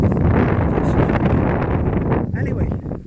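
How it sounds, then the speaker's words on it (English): Strong wind buffets the microphone outdoors in a blustery open area, a loud continuous low roar with gusty swells that eases slightly near the end, while a person talks underneath. "I don't know whether you can hear me over the wind. It says quite windy."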